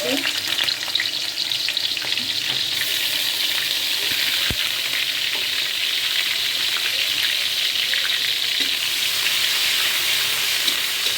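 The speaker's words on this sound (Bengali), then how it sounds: "তেলটা গরম হয়ে গেছে এখন দিয়ে দিচ্ছি পেঁয়াজ কুচি" Loud, continuous sizzling of onions frying in hot oil, with an occasional clink of a utensil and no voices.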